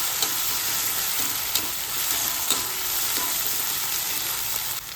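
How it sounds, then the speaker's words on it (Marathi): Tomatoes sauté in a hot pan with crushed chilli for a Maharashtrian methi bhaji, giving a steady close sizzle broken by occasional scraping clinks of a spoon stirring, with no talking. "टोमॅटो पण छान परतून घेऊ आपण"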